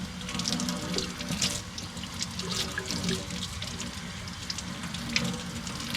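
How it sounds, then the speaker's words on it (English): Tap water runs steadily into a sink, rinsing scraped scales off a bream, a continuous close splashing wash with no talk. "And I'll rinse all the scales off."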